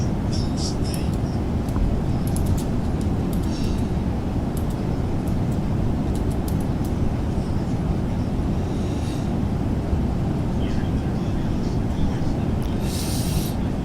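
A PMDG 777-300 airliner cruising in a flight simulator with a new soundpack gives a steady broadband cabin roar that stays constant throughout, with faint intermittent high clicks over it.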